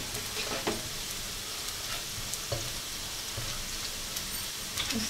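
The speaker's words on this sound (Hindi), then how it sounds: "अब हम इसमें ज़ीरा और काली मिर्च डालेंगे।" Cumin seeds and black pepper sizzle steadily in hot oil while chicken masala is being cooked, a close, continuous crackling fry with small pops scattered throughout and no one speaking.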